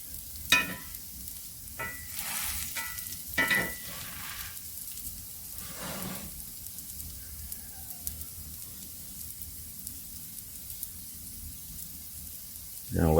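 Lion's Mane mushroom crab cakes, bound with egg, fry in a pan with a soft, steady sizzle. A few scraping bursts come early, then a quieter continuous hiss, and a sharper clatter at the very end.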